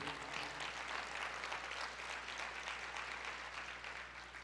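A church congregation claps together in a steady, soft, even wash of applause lasting a few seconds, heard from a distance.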